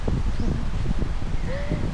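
Strong wind gusts buffet the microphone on a beach on Boracay, forming a steady low rumble with faint rustling and a brief high whistle near the end.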